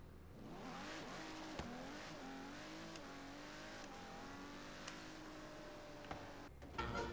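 Modded lightweight car in Forza Horizon 3, roughly 100 horsepower in a 100-kilogram build, engine droning and rising through revs in a steady accelerating run with faint ticking clicks, no voices.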